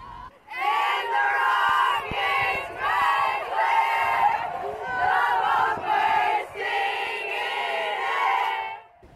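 Soccer players and a stadium crowd sing the Star-Spangled Banner a cappella after the sound system fails, a loud, sustained mass of voices rising and falling in phrases, with no instruments.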